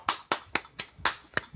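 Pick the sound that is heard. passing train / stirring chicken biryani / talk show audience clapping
talk show audience clapping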